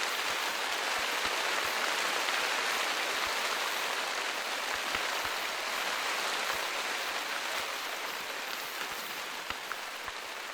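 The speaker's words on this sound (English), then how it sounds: "the rain decides to drown me out from my own stream again" Steady heavy rain patters and hisses without a break in the Call of the Wild hunting video game, a dense even wash with scattered drop ticks and no talking.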